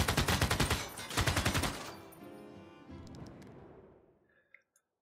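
Rapid volleys of gunfire as a city fires on troops in Civilization VI, two loud crackling bursts at the start, then a fading rumble and a few faint late pops.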